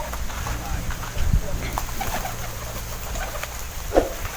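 Pigeons being released, with soft cooing and a brief flurry of wing movement near the middle against a steady outdoor background hum, and a voice talking faintly.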